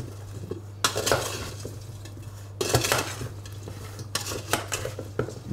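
Vegetables tossed with harissa sauce in a dish: bursts of utensil scraping and clinking against the dish, close and uneven, over a steady low hum.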